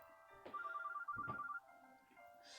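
A phone ringtone from the otome video game Mr. Love Queen's Choice plays a short melodic ringing phrase, clear and steady, followed by a quieter tail.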